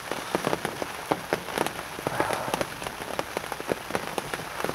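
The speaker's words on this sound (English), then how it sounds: "Bleeding rain." Rain falling on a surface at a carp fishing lake, dense pattering of raindrops with sharper taps scattered throughout, steady and close, with no talking.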